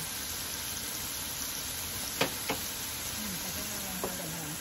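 Curry turkey wings fry in coconut oil, a steady faint sizzling hiss with a couple of sharp utensil knocks and light stirring scrapes.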